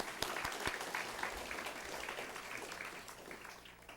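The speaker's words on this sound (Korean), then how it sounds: "네, 우리 하나님께 감사의 박수 올려드리겠습니다." Church congregation clapping in thanks during a New Year's Eve service, a soft, distant wash of applause that runs evenly and gradually thins toward the end.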